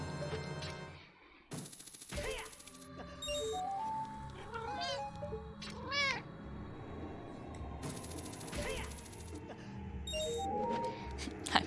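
A pet cat meows loudly and repeatedly close by, several drawn-out cries over about twelve seconds, with a steady background murmur and a few sharp bursts of noise.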